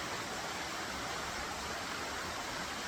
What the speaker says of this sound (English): some might say it's a holy waterfall.